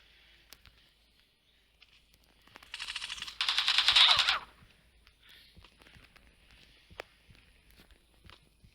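Gunfire in an online shooting video game, a quiet scene that bursts into two rapid automatic-fire bursts for about two seconds, then scattered faint clicks and single shots.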